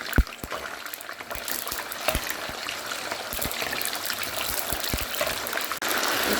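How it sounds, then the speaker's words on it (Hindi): Small pieces of mutton liver sizzle and crackle in hot oil in a pan, giving a steady, close, bright hiss scattered with frequent pops, with no talk over it. "ऑयल गर्म हो गया। अब हम कलेजी फ्राई करते हैं।"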